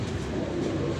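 Pigeons coo in a steady, close murmur that fills the whole brief moment, with several birds' soft, throaty calls overlapping and no voices.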